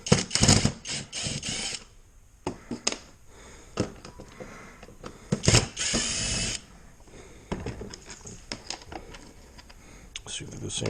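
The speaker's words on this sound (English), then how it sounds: "we're going to remove some screws. Where's my drill?" Several short bursts of a cordless drill whirring at close range as it removes screws from a Power Wheels Dune Racer, spaced between pauses and clicks, with someone talking over and between them.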